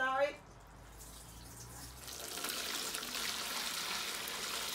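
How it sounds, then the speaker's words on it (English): Boiled hibiscus (wonjo) drink is poured through a kitchen sieve, starting with a brief clink and then a soft, steady splashing trickle that builds and continues to the end. "now we're going to sieve it in our lovely sieve"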